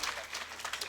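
Applause from an audience at a live Tamil stage performance, a short burst of clapping with crowd noise.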